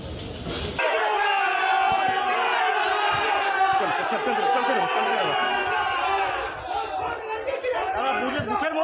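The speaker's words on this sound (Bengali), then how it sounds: "সেই সময় তৃণমূল কংগ্রেসের সমর্থক ও কর্মীরা জয় বাংলা স্লোগান দিতে থাকেন।" Trinamool Congress supporters and workers chant the Joy Bangla slogan in unison inside a crowded vote-counting centre in Asansol, a loud, sustained mass of overlapping shouting voices with brief dips.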